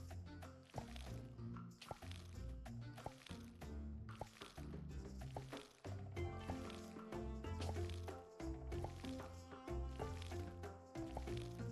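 Watery sloshing and dripping game effects as planted wheat seeds are watered in Sun Haven, a fantasy farming game, heard as a steady run of liquid sounds mixed with busy background music.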